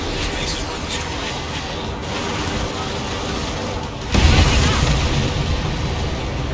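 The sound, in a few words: explosion of enemy transport in Ace Combat 7 video game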